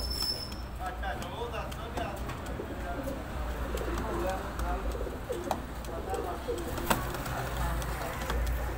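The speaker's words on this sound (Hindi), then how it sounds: "बड़े नवाब कबूतर हैं जनाब" Nawab pigeons from a breeder pair coo softly and repeatedly at close range over a steady low background hum, with no talking.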